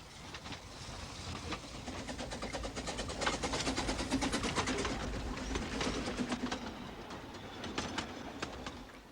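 Rhythmic clattering of a narrow gauge steam train hauled by a double Fairlie locomotive rolling along the track at steady speed, rapid repeated clicks over a low rumble, with birds cooing nearby.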